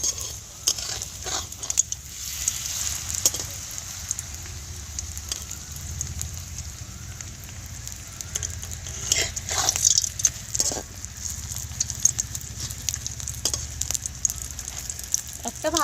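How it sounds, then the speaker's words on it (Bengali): Papad fries in hot oil in a kadai while it is turned over and over, making a continuous close sizzle dotted with crackles and occasional scraping or clattering touches. "উল্টে পাল্টে ভালো করে ভেজে নেব"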